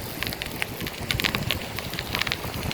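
A warm headwind gusts at Fort Myers Beach, Florida, as a bicycle rides along ahead of a storm, making a steady rushing roar against the microphone with scattered crackling buffets throughout.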